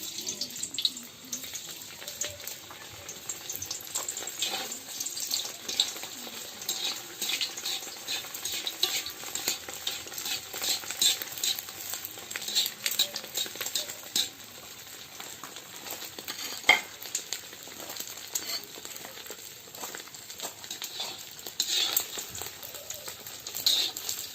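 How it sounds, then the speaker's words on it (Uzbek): Food fries in a heated cauldron, a steady low sizzle and crackle with occasional stirring scrapes, continuing evenly for the whole stretch with some voices faintly present. "Buni qizartirib qovurib olamiz."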